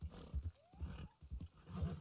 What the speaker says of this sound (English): I believe a bear.